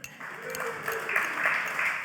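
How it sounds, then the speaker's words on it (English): A congregation at a church gathering gives a short round of applause for a volunteer, a brief wash of clapping of moderate loudness. "Everyone give a round of applause to Geordie."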